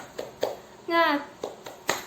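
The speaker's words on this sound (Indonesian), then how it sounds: "Sekali lagi ya. Tepuk semangat." A handful of sharp hand claps in a loose rhythm during a fifth-grade class clapping chant, broken midway by a child's brief high-pitched call, with other children's voices faint behind.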